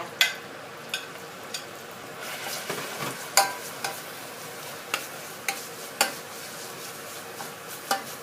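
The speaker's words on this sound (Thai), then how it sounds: "ค่ะเขาก็จะใส่น้ำมันลงไปในหม้อก่อน เพื่อเขาจะผัดเครื่องแกงนะคะ" Curry paste is stir-fried in oil in a pot, a steady soft sizzle broken by regular scraping taps of a spatula against the pot, close and moderately quiet, with no talking.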